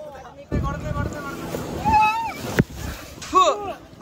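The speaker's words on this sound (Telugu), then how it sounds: "బోట్ లో అయితే కూర్చున్నాము. మొత్తం నీళ్ళైతే పైకి ఎగురుతాయి చూడండి." Seawater splashes and slaps against a boat on a ride at a beach, bursts of spray heard up close beneath steady talking, with whistling and chatter from people aboard.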